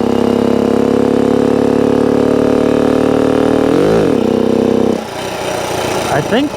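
A 1964 Honda CT90 motorcycle engine runs loud and close with a steady buzzing note, dips and swells briefly as it shifts into fourth gear, then drops lower under speech.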